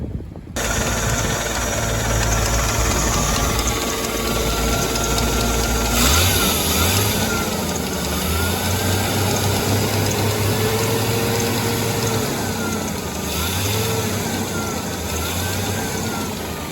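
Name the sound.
1984 Jeep CJ7 engine running and idling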